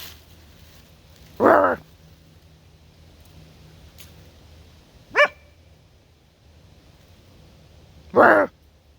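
A two-year-old female dog, off leash at a wildlife management area in Arkansas, gives three single barks spaced several seconds apart. The barks are near and clear against quiet outdoor background noise.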